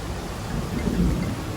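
A steady thunderstorm at an outdoor resort in Turkey, with heavy rain hissing continuously and a low rumble of thunder swelling and fading beneath it, close and enveloping, with no speech.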